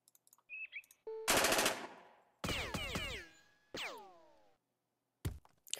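Gunfire from a weapon in the video game Jagged Alliance 2, a shotgun-style gun: several loud separate bursts of shots, each followed by metallic ringing and clattering tails, with short silences between and faint clicks at the start.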